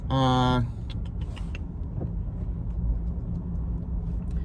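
A car drives over hilly roads, heard from inside the cabin as a steady low road-and-engine rumble throughout, opening with a brief, loud tonal sound.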